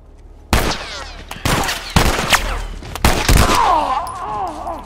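Loud, sharp gunshots in the video game The Last of Us ring out in several separate bursts, each followed by echoing reverberation, then a lingering whine as the firing stops.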